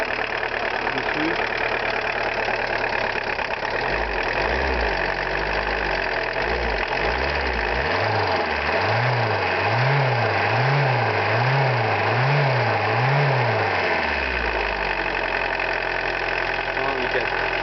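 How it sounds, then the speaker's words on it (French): Close, steady idle of a Volkswagen Golf 2 TD turbo-diesel engine with a slight vibration, its low rumble rising and falling in a rhythmic pulsing wave through the middle before settling back; occasional voices over the engine. "Ça vibre un peu. Non, il claque pas froid, tout va bien."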